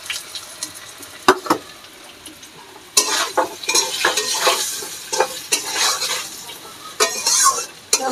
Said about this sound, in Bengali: গাঁটি কচুটা একটু গরম হোক, মানে ভাজা হোক।